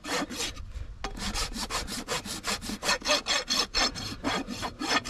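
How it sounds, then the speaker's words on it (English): A farrier's rasp files a horse's hoof during shoeing, with quick, rhythmic rasping strokes repeating close and loud, about three per second, after a brief pause near the start. "I'll come back with my rasp. And clean it up with my rasp."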